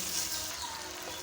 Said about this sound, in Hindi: तो अब हम इसको दही के साथ 2 मिनट के लिए पका लेते हैं